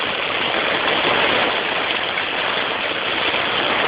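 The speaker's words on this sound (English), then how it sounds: "Got a little bit, just regular rain." Steady heavy rain pours outdoors onto a flooded sidewalk, a dense, continuous hiss and wash that stays loud and even throughout with no voices.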